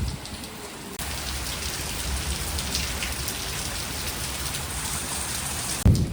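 Heavy summer rain pours down in a loud, dense, continuous patter on surfaces, with a sudden change in level near the start and a sharp knock at the end.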